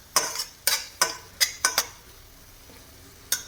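Spoon or spatula scraping and clinking against a pan as sesame is stirred into spring onion bhaji, six sharp metallic taps in quick succession, then quiet with one last clink.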